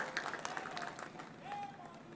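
A crowd at an Indian public speech by a politician breaks into applause, quiet scattered clapping heard from a distance with faint voices mixed in.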